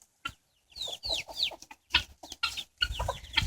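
Chickens cluck and chatter close by in short bursts, several birds with squawky, rising calls separated by brief pauses.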